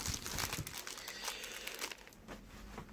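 Continuous crinkling and rustling of plastic packaging around bathroom faucet hoses being opened, close by, with irregular crackles and brief tearing-like bursts throughout.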